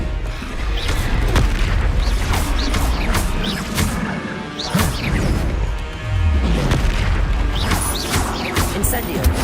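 Loud, dense spell-casting effects from the video game Hogwarts Legacy, including the Expelliarmus disarming spell: booming blasts, crashes and whacks follow one another over a continuous rumble, with a voice calling out between them.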